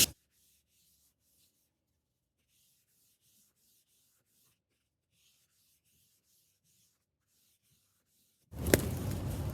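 Short bursts of light rubbing and scraping as wood is hand sanded with sandpaper, quick strokes with the grain, soft and close, with a louder burst of noise at the very end.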